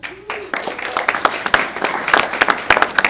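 A small group at a city commission meeting claps in a quick, uneven burst of applause, fairly close and lively, lasting a few seconds.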